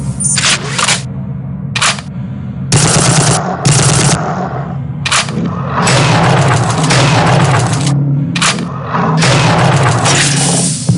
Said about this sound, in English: The car's arc fire is a concentrated bolt of 5 shards that breaks up on impact and will even bounce off walls